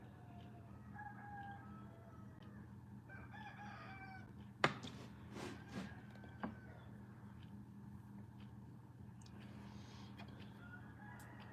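A rooster crows and chickens cluck at a distance over a steady low hum, with a few sharper knocks partway through.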